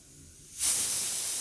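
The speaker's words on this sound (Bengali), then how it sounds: "কড়াইতে পেঁয়াজ বাটা আরও টমেটো কুচিয়ে রেখেছিলাম, তো ওটা এখন ভেজে নেব।" Onion paste and chopped tomato hit hot oil in a wok, bursting into a loud, steady sizzle about halfway through after a quieter moment, then hissing on evenly with no talking.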